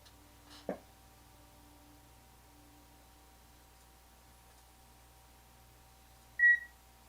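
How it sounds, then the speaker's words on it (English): A single short electronic camera beep marking the start of recording sounds near the end, clear against a quiet room hum, after a faint click early on. "That wonderful loud beep was me recording."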